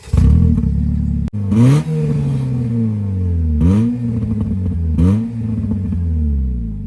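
A Nissan Versa's 1.8 liter engine running without a catalytic converter, loud and close, idling with a steady drone and then revving sharply three times, each rev climbing and falling back.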